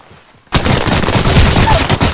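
Rapid automatic gunfire erupts in Apex Legends after a moment of near silence, a loud, close burst of shots rattling on without pause to the end.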